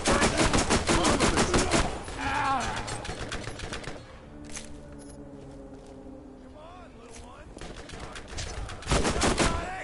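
Rapid automatic gunfire from the video game Borderlands rattles in dense bursts at the start and end, with quieter game effects and tones in between.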